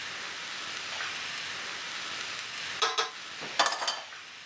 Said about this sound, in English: Okay, we'll pop our pancetta back in. Let's give that a stir.